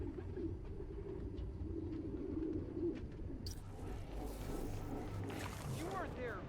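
Pigeons coo in the Spider-Man: Miles Morales video game, soft and low in the background, while people talk over an ambient game soundscape. Brighter bird chirps come in toward the end.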